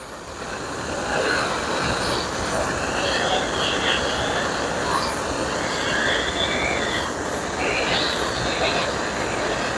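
A torch roars in a steady, continuous broadband hiss as it burns the ends of wooden boards, close and fairly loud throughout, with faint irregular crackles riding on top.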